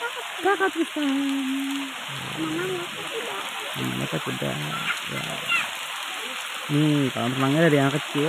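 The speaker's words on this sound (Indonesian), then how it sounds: "tuh suasananya hujan nggak? Hujan." Rain falling at a hotel swimming pool in Bogor makes a constant hiss across the whole scene, while an adult and someone talk over it close by.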